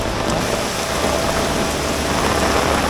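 Heavy rain pours onto an umbrella in Ratargul swamp forest in Sylhet, a dense, steady drumming hiss that stays loud and close throughout with no voices.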